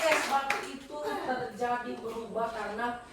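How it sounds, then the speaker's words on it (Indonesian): A classroom of students claps for a classmate named Tabita, scattered hand claps heard close by while voices talk and call out over them through most of the moment. "Tepuk tangan buat Tabita"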